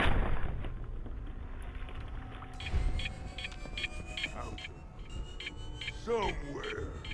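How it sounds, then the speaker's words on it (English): Repeated electronic beeping in Fallout 4 pulses at a steady rhythm through a noisy, rumbling game soundscape, with a brief voice near the end. "I hear a lot of beeping."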